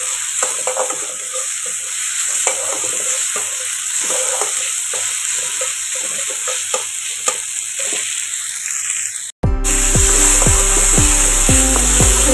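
Ginger garlic paste frying in a hot pan on a gas stove, loud close sizzling with repeated scraping strokes of a stirring spoon, then abruptly cut to a different, louder section near the end.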